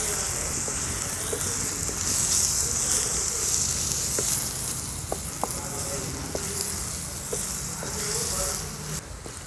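Dried shrimp jawla frying in masala in a pan over a wood-fired chulha, a continuous bright sizzle with occasional scraping clicks of stirring, close and steady for the whole stretch.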